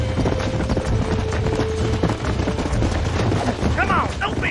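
Horse hooves clatter in rapid, uneven clip-clop under busy game noise during horse breaking in Red Dead Redemption, with a steady low rumble and brief chirping tones near the end.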